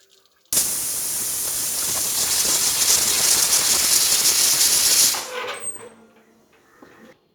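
Steam hisses out forcefully during cooking, a loud, sudden, continuous burst that holds steady for several seconds before tapering off into quiet rattling.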